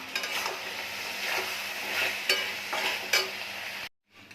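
Soybean chunks tumbling into spices frying in oil for an Indian curry, a steady close sizzle with stirring scrapes and a few sharper clatters, then a sudden cut to near silence; no one talks.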